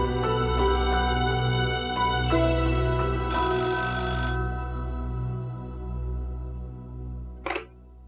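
Landline telephone ringing in a steady electronic trill that repeats for several seconds over a low hum, near and clear, ending with a short sharp click.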